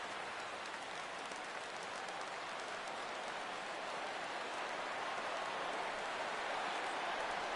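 Steady broadband roar of a baseball stadium crowd in MLB The Show 17 during a Dodgers vs Diamondbacks game, rising slightly as fans stand for a full count, continuous and fairly faint with no voices on top.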